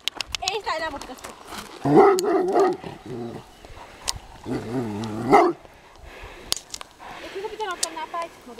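A dog following behind people in a horse-handling setting with a halter and whip gives short whining barks in two bursts, under frequent nearby talking.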